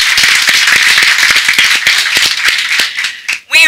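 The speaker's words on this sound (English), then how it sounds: "How about if we give a round of applause for you?" A room of preschool children and adults claps together in a dense, steady burst of applause that runs almost the whole time, then fades out with a brief voice at the very end.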